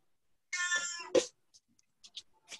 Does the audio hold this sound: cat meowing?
yes